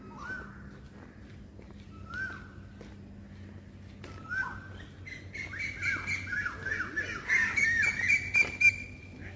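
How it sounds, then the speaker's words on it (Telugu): Assorted birds call outdoors: sparse whistles at first, then a busier mix of chirps and squawks building toward the end, fairly close. "అదిగో పక్షులు చూడండి, అరుపులు,"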